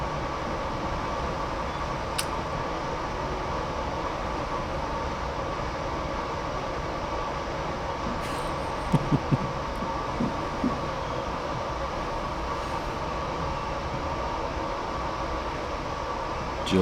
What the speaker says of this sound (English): Just on the way into the city now, on the wonderful train line we have here in Dublin.